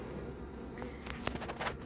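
Honey bees hum at an open hive during an evening inspection, a soft continuous buzz close by, with a few sharp clicks and knocks from handling the frames near the end.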